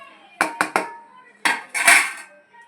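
A spoon clinks three quick times against a bowl while spice powders are added for chicken pakodi, then a longer, brighter scrape and rattle follows. Close and clear, with no talking.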